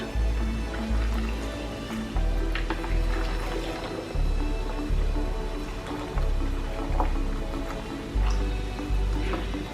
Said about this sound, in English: I'll just add 1 liter of water.